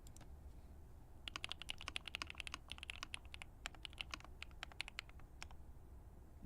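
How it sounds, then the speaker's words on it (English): Fingers type rapidly on a computer keyboard close to a microphone, a quick irregular patter of crisp key clicks over faint background hiss, with no talking. "Keyboard ASMR."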